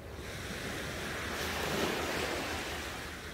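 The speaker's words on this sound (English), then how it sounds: "the waves are very quiet, but you can hear them as they move gently and calmly" Soft, steady wash of sea waves, a gentle rolling hiss swelling slightly in the middle, calm and continuous with no voices.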